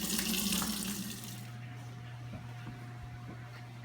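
Running tap water pours while collard greens are washed in a kitchen sink, loud and splashy for the first second and a half, then dropping to a quieter steady hum.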